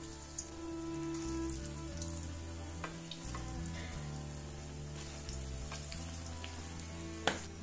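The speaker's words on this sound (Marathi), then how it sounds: "तर कोफ्ते आता आपण तळून घेणार आहोत। छान गरम झाले तेल।" Bottle gourd (lauki) koftas deep-fry in hot oil with a continuous, rain-like crackle and sizzle. A sharp clack sounds near the end, and background music plays throughout.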